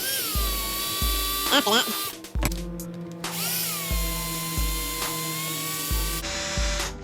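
A power drill with a step bit enlarges a hole in a Holley throttle body bracket for an LSA engine in a Chevy, whirring loudly in repeated short bursts with a brief spoken line between.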